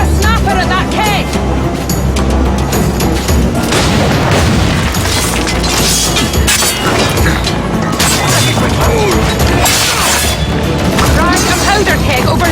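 Powder keg blown apart by cannon fire during an Assassin's Creed Black Flag naval battle, a dense din of booms, crashes and gunfire crowding the whole stretch, loud and continuous with voices mixed into the chaos.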